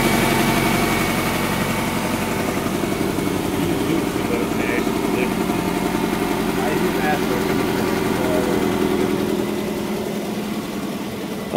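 A 2008 Nissan Altima engine idles steadily with a low, even rumble and faint rhythmic vibration, and muffled talking can be heard underneath.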